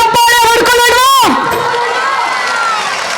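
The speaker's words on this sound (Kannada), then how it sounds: "ನಮಗೋಸ್ಕರ ನಾವೇ ಒಂದ್ಸಲ ಜೋರಾಗಿ ಕೈ ಮೇಲೆತ್ತಿ ಚಪ್ಪಾಳೆ ಹೊಡ್ಕೊಳ್ಳೋಣ" A large crowd at a Hindu temple fair (jatra mahotsava) at a math in Haveri claps and cheers loudly and close, with a dense wash of applause and shouting after a burst of voices.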